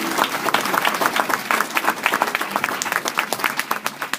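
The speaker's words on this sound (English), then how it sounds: "You can clap now." Crowd applause at a speaking event, many hands clapping in a lively, uneven patter that carries on strongly for about four seconds.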